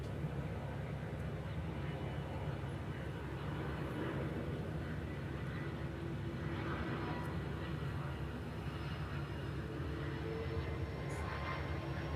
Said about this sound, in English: This is a FedEx 757. This one's coming in from Hilo.